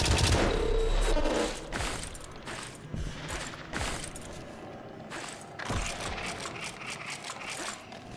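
Automated turret fire in the video game White Knuckle, a burst of rapid shots up front followed by scattered, echoing gunshots and mechanical clanks over a busy, noisy game mix.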